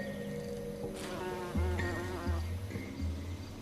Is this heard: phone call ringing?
no